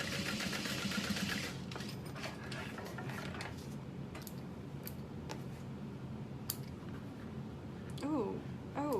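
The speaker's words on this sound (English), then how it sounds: "So we stitch over top of that." A sewing machine stitching a modified barrel bag, heard as a low, steady mechanical whir that runs the whole time. Faint ticks and small clicks sit on top of it, and a soft high chirp comes in near the end.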